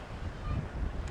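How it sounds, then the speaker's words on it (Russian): Wind blows at about 10 metres per second on a lavalier microphone fitted with a fluffy windscreen outdoors, producing a continuous low, buffeting rumble with a steady hiss and gusty fluctuations throughout. "И пробую, как же будет звук с этой петлички вот при таком ветре с его скоростью 10 метров"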